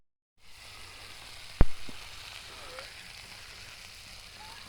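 Meat sizzling on a sac griddle over a wood fire at a campsite, a soft steady frying hiss with a sharp clack near the start and faint voices in the background.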